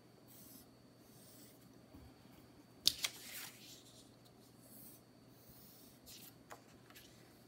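Marker or pen drawing a flower design on paper, quiet steady scratching and rubbing strokes close up, with a couple of sharper taps partway through and no talking.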